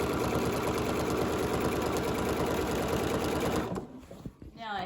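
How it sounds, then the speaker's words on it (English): A sewing machine stitching quilt binding runs in a fast, even whir close by, then stops near the end, leaving brief handling noise and a voice. "This is going to be just straight sewing down the sides."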